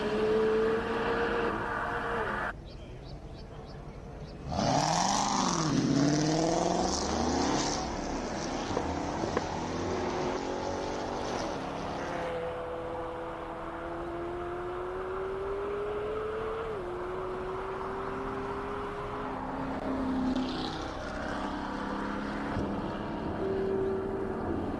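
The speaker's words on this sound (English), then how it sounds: "The beautiful McLaren Garth McIntosh, the 720S." A McLaren 720S sports car runs a timed hillclimb lap, its engine note rising and falling through gear changes as it approaches and passes, then fades while a commentator talks over it.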